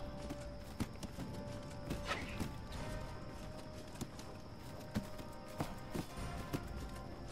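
Horse hooves clatter at a steady clip in the video game Mount & Blade II: Bannerlord, faint under a constant low background hum of battle.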